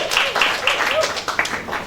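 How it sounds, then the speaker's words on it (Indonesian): Applause from a church congregation, brief scattered clapping with voices and cheers mixed in over about two seconds. "Kasih tepuk tangan dong buat semua yang melayani hari ini."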